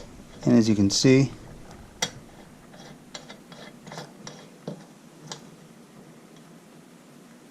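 A nut from a rear bicycle axle is threaded onto a weed eater motor, giving a series of faint, scattered metallic ticks and clicks after a brief stretch of talking.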